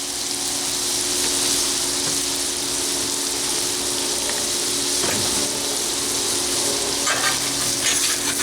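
Pulled pork in barbecue sauce sizzles loudly and continuously in a pan, a dense close frying hiss with faint scraping as it is reheated, no talking.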